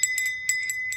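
A small metal hand bell rings in quick repeated clangs, bright ringing strikes in three short bursts with a sustained shimmering tone between them, close and clear with no talk.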